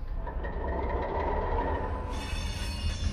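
A train in Train Simulator Classic starts to move, a low steady rumble of engine and wheels with a faint tonal whine rising near the end, continuous and without talk.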